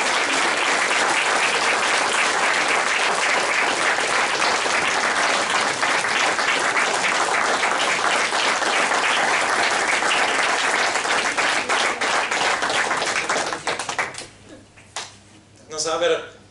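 A church congregation gives a big, sustained round of applause, dense and loud throughout, then fades to scattered claps near the end.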